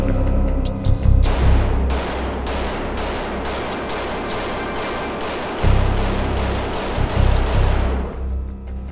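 Rapid volleys of gunshots crack out in quick succession at an outdoor live-fire range, a dense string of sharp, loud reports with brief heavier bursts at the start and end.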